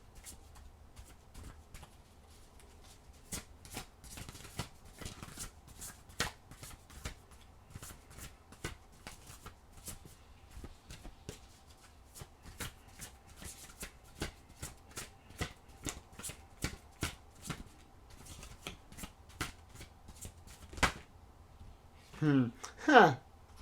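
Oracle cards being shuffled by hand make a scattered series of soft, close, irregular slaps and riffles over a quiet background, with a brief louder bustle of movement near the end.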